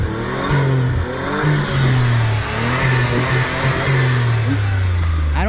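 A car engine with a turbo timer revs steadily at close range, its pitch rising and falling through several throttle blips. The drone is loud and continuous, and no one talks over it.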